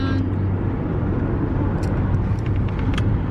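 Steady low road and engine rumble from inside a moving car on the road, a continuous dense drone with faint higher hiss, no talking.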